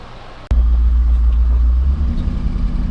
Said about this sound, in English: I'm teaching Nolan here how to drive a stick